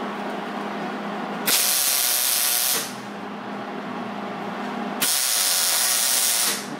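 A welder puts a couple of tack welds onto a light bar tube for a RZR Turbo S, two bursts of loud crackling hiss, each lasting over a second, close up with a steady hum in the pauses.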